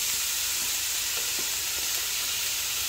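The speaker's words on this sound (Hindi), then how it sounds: "इसको मैंने 2 से 3 मिनट भूनना है कि लहसुन का जो फ्लेवर है सब्जियों के अंदर आ जाए" Vegetables and garlic sautéing in a pan for a Turkish-style winter soup give off a steady, soft sizzle and hiss, with a few faint stirring clicks.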